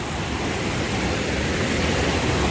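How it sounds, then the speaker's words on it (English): Rushing water pouring out into a river near Hot Springs on the Appalachian Trail, a loud, dense, unbroken roar like a waterfall, close by and steady throughout. "Pretty amazing, a lot of water coming out of there."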